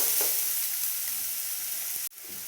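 Semiya noodles sauté in a pan with salt, giving a constant hissing sizzle at moderate level with a few faint stirring taps and a brief dropout near the end.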